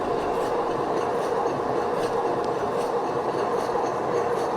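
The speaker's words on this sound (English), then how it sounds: "This is a new generation, new European type grinding mill. We can see the grinding rulers is running well inside the mill" New European-type grinding mill running with its rollers turning inside the open chamber and no housing fitted at the Bauma exhibition in Shanghai, giving a steady, loud rumbling clatter with a faint rhythmic rattle throughout.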